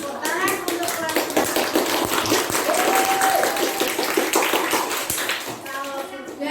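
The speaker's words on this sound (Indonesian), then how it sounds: "Tepuk tangan untuk kelas." A classroom claps for the class after correct answers, a dense stretch of steady clapping and tapping with children's voices mixed in throughout.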